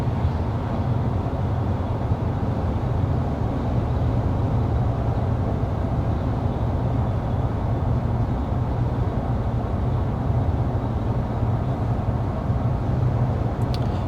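Steady low road and engine hum inside a 2025 Kia Sorento Hybrid cabin cruising at 55 mph with the fan on low, an even drone with no speech and no break.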